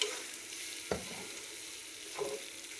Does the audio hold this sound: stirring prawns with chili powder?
yes